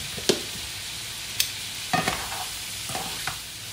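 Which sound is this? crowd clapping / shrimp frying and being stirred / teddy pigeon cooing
shrimp frying and being stirred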